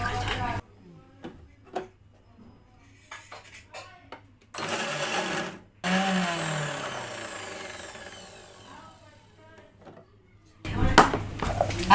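A mixer grinder coarsely pulsing garlic, green chilies and ginger into a rough paste, with bursts of whirring motor noise between pauses, heard alongside people talking in a home kitchen.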